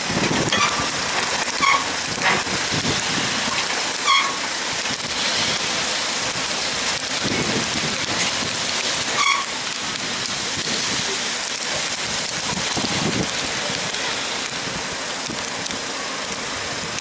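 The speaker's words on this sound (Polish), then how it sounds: "Pada." Steady rain patters and hisses throughout, with a few scattered louder taps and thumps popping out along the way.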